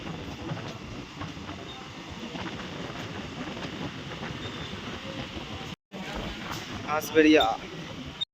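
A local passenger train on the Katwa–Howrah line rumbles past steadily through a station with rail clatter, then a brief gap followed by squealing, whining wheel tones as it moves on.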